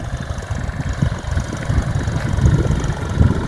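A tractor engine works a field while wheat is sown, giving a short, continuous low rumble with a faint throbbing pulse close by.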